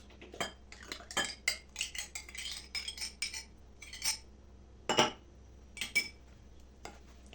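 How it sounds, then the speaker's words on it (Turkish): A spoon mixes egg and yogurt in a bowl, with a quick run of light clinks and taps against the sides, close up and fairly quiet, and no talking. "Karıştırıyorum."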